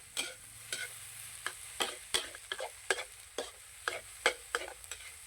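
Old-style egg fried rice stir-fried in a pan, a spatula scraping and clanking against the metal in a steady rhythmic series of strokes over a low sizzle, close up with no voices.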